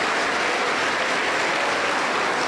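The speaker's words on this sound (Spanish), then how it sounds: "la recibimos con fuerte aplauso para el Señor Jesús" Strong, steady applause from a Pentecostal church congregation welcoming the women's choir at an anniversary service in Huancayo, a dense uniform clatter of many hands held at full level throughout.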